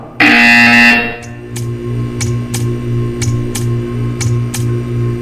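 A loud electronic buzzer from the video game Portal 2 blares for about a second, followed by a steady low hum and a series of sharp, regularly spaced clicks.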